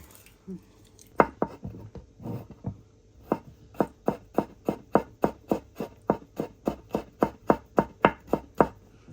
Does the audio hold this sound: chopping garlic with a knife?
yes